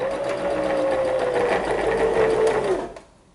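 A sewing machine stitches a scalloped hem edge in a steady, close whirring run that continues for about three seconds, then stops abruptly, leaving near silence.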